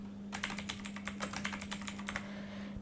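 Rapid typing on a computer keyboard, a quick run of close, crisp key clicks over a faint steady hum, fairly quiet and with no voices.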